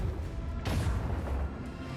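A single heavy boom from macro cannons firing in the Warhammer 40,000: Rogue Trader video game, a sudden loud blast with a rumbling tail that fades over about a second.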